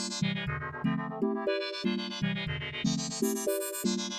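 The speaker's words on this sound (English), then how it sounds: "Let's switch to ring mod mode and return to a 7th chord" CIZZLE synth in ring mod mode playing a seventh chord, heard as a quick sequence of bright, metallic stepped notes with rhythmic attacks, steady and alone without any voices.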